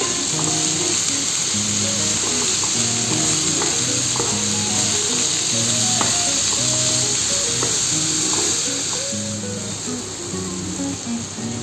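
Leaves sautéed in a pan with chopped ginger, sesame seeds and salt give off a steady, continuous sizzle throughout, with faint stirring scrapes and no talking.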